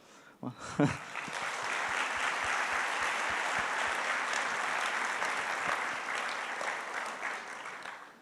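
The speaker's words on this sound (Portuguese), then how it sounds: "eu queria aproveitar esse momento para cada um se dar um salve de palmas" An entrepreneurship event audience breaks into applause, a few sharp claps at the start swelling into steady, dense clapping that holds for several seconds before easing off.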